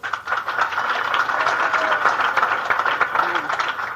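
A comedy club audience at a 1980 stand-up show bursts into applause, a dense, even wash of clapping that holds steady for a few seconds, with some voices mixed in.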